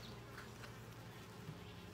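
Honey bees hum in a steady, continuous drone at an open hive during an inspection, a close, even buzz with no voices over it.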